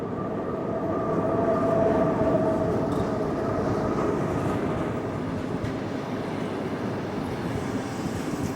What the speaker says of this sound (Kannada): ಯುಕ್ರೇನಿನ ಮೊಟ್ಟ ಮೊದಲ ಟ್ರೈನ್ ಅನುಭವ.